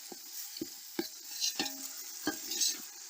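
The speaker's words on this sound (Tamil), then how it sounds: "இப்போ இஞ்சி பூண்டு பேஸ்ட் போட்டுக்கிறேன்." Ginger garlic paste frying with onion and tomato in a pan for a village-style rabbit curry, with a spoon stirring in repeated scraping strokes over a steady, close sizzle.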